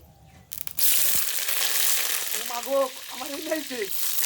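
Chopped fenugreek greens, eggplant, potato, tomato and garlic hitting hot oil in a village kitchen, bursting into a loud, steady sizzle after a brief clatter, with a voice speaking over the frying.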